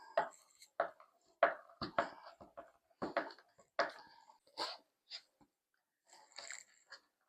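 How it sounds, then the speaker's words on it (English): Sticky fruit chew candy being chopped by hand with a knife on a board, a series of irregular, close, dull knocks and cuts with short pauses between strokes. "Just going to have to go to work chopping it."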